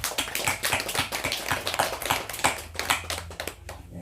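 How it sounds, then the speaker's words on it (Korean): An audience at a Buddhist temple service claps to welcome newcomers, with a dense run of quick, close, overlapping hand claps that tapers off near the end. "김순영 보살님, 우리 박수로 환영"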